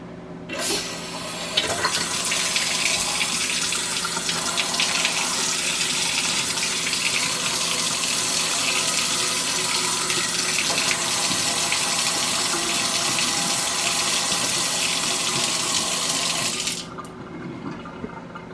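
A leaking faucet is opened to purge air from the pipes, releasing a steady rushing gush of water that starts abruptly, runs evenly for about fifteen seconds, then cuts off.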